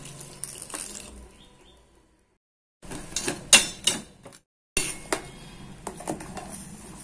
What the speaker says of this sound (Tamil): ஒரு 1/2 கிளாஸ் தண்ணி ஊற்றிக்கலாம்.